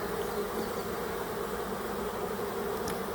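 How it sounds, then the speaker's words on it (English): A dense, steady buzzing hum of many honeybees fanning at the entrance of a box holding a freshly caught swarm fills the space, continuous and close, with no pauses. "And the bees seem to be more content. They're fanning."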